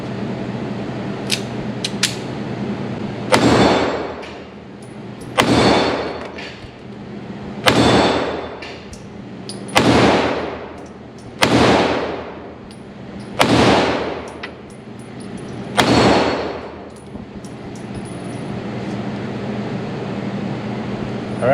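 Sharp reports from a Beretta 85FS Cheetah .380 pistol ring out one at a time at steady intervals of about two seconds, each followed by a metallic clang from a struck steel plate, loud and close, about eight shots.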